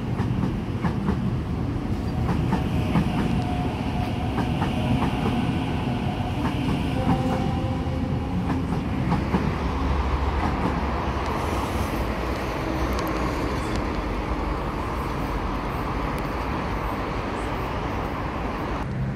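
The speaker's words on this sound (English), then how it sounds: "A36, departing platform 2, Linfield service." A Sydney Waratah passenger train departs platform 2 at Milsons Point station, a continuous loud rumble with rhythmic wheel clatter and squeals building as carriages roll past nearby.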